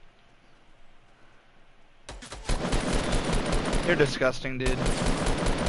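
Revolver fire in Fortnite starts abruptly after a quiet stretch and turns into a loud, dense run of rapid shots. Close, sharp cracks continue while someone talks over them.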